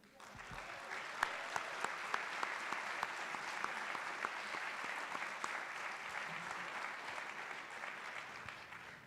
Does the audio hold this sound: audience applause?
yes